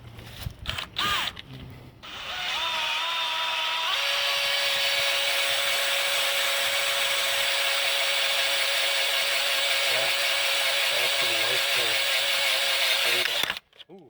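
A power drill bores into metal on a Bronco II during an engine swap, running at a sustained high-pitched whine for about ten seconds after a few brief starts, close and loud before cutting off.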